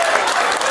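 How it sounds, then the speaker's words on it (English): Comedy club audience clapping during a stand-up set, with men in the crowd standing up to clap; a brief burst of dense, steady applause with no gaps. "Look how many men are clapping."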